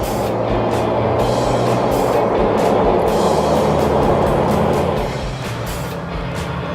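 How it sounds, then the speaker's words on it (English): From inside a 2002 Jeep Wrangler on the move, a steady engine and road rumble fills the cabin, with faint bumps and clicks spread across it and the drone easing slightly near the end as it shifts from first to second gear. "So let's go for a spin and we'll show you some of the shifting."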